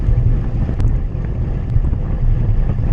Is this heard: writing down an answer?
no